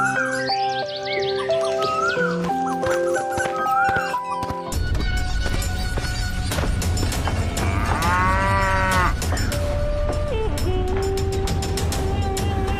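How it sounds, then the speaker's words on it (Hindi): An elderly cow lows after returning from grazing, a long, drawn-out moo over steady background music in a rural Hindi folk-tale setting. "जब भी घास चरकर आती तो रंभाते हुए भगवान को याद करती।"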